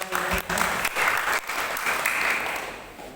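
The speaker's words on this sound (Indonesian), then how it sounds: "beri tepuk tangan kepada orang" Loud, dense applause from a church congregation during a worship service, sustained for about three seconds before tapering slightly.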